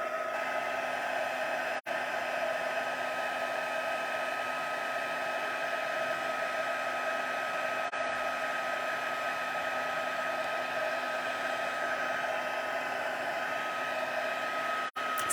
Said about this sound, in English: I don't know if you guys can hear me over the heat tool.